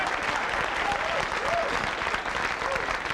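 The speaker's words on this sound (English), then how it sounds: "Give him a big round of applause." Steady applause from a large audience at a 1977 Richard Pryor celebrity roast, dense and continuous for a few seconds, with faint voices and whoops mixed into the clapping.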